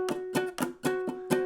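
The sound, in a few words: ukulele strings strummed muted with too hard a touch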